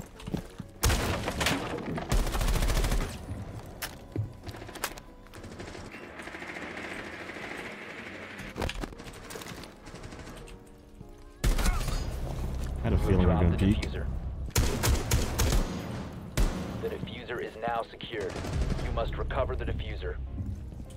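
Gunfire rings out in the tactical shooter video game Rainbow Six Siege: loud bursts of automatic fire and sharp single shots come in clusters, with short quieter gaps between them.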